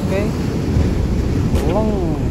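Sea waves washing onto a sandy beach used as a fishing spot, a steady close surf roar mixed with wind rumble on the microphone, with brief voices over it.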